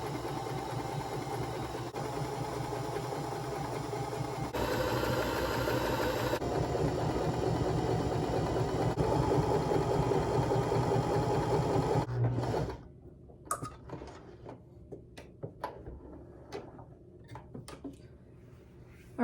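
A sewing machine stitching fabric strips together for a quilt hums steadily for about twelve seconds, then stops. Scattered faint clicks and handling noises follow.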